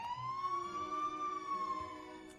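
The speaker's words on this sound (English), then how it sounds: "I remember hearing sirens from the distance as my vision darkened." An emergency siren wails faintly from far off, a single smooth rising-and-falling tone lasting a couple of seconds over low background noise.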